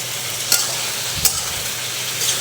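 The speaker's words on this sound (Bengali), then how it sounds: "আরও একটু কষাতে হবে তো সবজিটা।" Vegetable curry being stirred and fried in a pan (kadai), a steady close sizzle broken by a few sharp scraping strokes of the spoon, with no talking.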